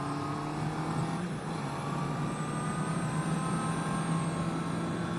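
A 2020 Honda CB650R motorcycle engine while riding, a steady droning hum with wind rush, constant and close throughout, no talking.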